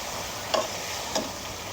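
Small mola fish frying in spice masala: a steady close sizzle with two quick utensil taps against the pan.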